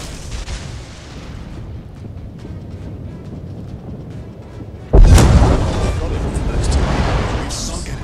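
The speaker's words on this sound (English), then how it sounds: "We've sunk an enemy destroyer." An enemy destroyer sinking in World of Warships: a sudden loud explosion blast bursts in partway through and settles into a sustained heavy rumble, following a steadier stretch of background battle noise.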